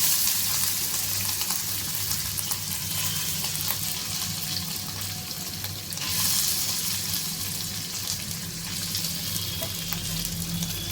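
Water goes into hot oil with spices and sets off a loud, continuous sizzle and bubbling close by. The sound stays steady throughout with no talking.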